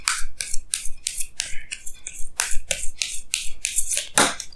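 Tarot cards drawn from a deck: a quick series of crisp, close papery swishes and slides, about a dozen strokes in an irregular rhythm, with no talking.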